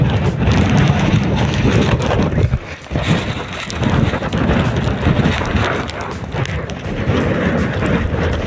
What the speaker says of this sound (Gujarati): ફૂલ વરસાદ અને પવન પણ ફૂલ છે અહીંયા ઉપર.